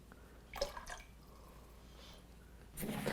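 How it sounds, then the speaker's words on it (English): Lemon juice poured into a pot of dandelion syrup in short splashy bursts, one near the start and another at the end, soft and close with quiet gaps between and no talking. "We're gonna add lemon juice to this now."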